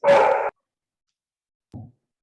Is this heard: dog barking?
yes